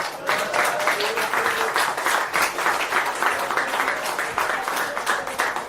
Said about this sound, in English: can we have a 1 minute round of applause for Pedro?